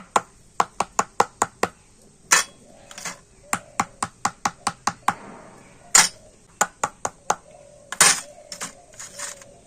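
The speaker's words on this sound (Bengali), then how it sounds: "এবার একটু ঠুকে আর ব্যাটারটা সেট করে নেব" Bowls filled with batter for steamed kheer bhapa pitha are knocked against a surface to settle it. The sharp, close knocks come in quick rhythmic runs of several taps, separated by brief pauses, with no talking.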